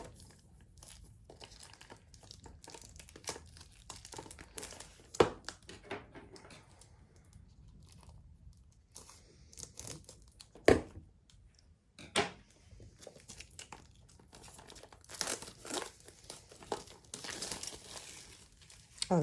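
Paper packaging around a Kuretake granulating watercolour tin is torn and crinkled up close, in scattered bursts of rustling and sharp ripping between quieter pauses.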